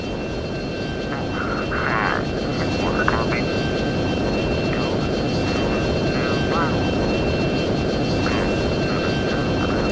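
A jet fighter in the F-22 Total Air War video game drones with a steady, loud engine roar across the whole stretch, while brief radio-style voice chatter breaks in over it.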